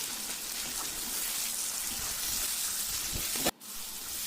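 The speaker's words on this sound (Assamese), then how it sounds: "বেঙেনাখিনিও ধুনীয়াকৈ ভাজি ল'ম প্ৰায় 2-3 মিনিট সময়" Small chopped eggplant pieces fry with spices in a pan, a steady crackling sizzle like light rain that runs evenly, then cuts out sharply near the end before resuming more quietly.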